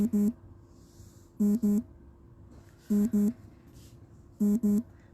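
A repeating double-beep phone ringtone for an incoming call, four evenly spaced pairs of bright electronic tones over a faint hum.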